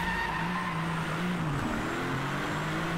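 Race car in the DriveClub video game on hardcore mode, engine holding a high, steady whine with tires squealing and skidding continuously through a corner.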